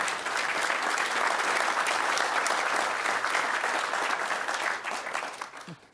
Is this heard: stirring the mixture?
no